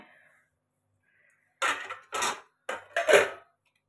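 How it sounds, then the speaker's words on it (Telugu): A lid is set onto a cooking pot on a kitchen stove, making four short clattering metallic knocks in quick succession, close and fairly loud, with quiet pauses around them. "మూత పెట్టేసి"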